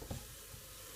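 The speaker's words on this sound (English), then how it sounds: "In the middle of frying my bean paste," Sweet adzuki bean paste frying in a pot gives a soft, faint sizzle, with a brief stirring scrape near the start.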